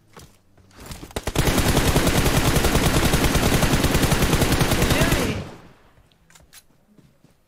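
Sustained automatic gunfire in the mobile video game PUBG Mobile, a loud rapid burst of shots lasting about four seconds after a few single shots, then trailing off into quieter ambience.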